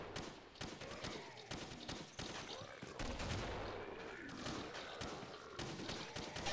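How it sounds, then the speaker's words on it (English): G36C rifle fire from a Killing Floor mod, a clipped electronic-sounding report fired in quick irregular bursts and volleys, close and punchy, with brief gaps between strings of shots. "decent sound, even if it is a little bit generic electronic gun sound"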